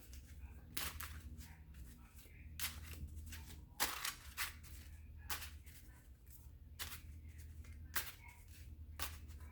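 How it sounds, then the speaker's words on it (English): Repeated quick riffling bursts of playing cards being shuffled, roughly every second, sharp and close against a quiet humming background. "Here, we're gonna turbo shuffle. This is me turbo shuffling."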